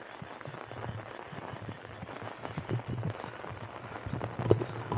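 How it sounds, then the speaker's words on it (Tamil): Heavy, continuous rain falls in a Tamil Nadu village during Cyclone Fengal, a faint, steady wash of drops and patter on surfaces with scattered sharper splashes. "அதே மாதிரி தொடர்ச்சியாக மழை பெஞ்சும் நான் இப்போ தான் பார்க்குறேங்க"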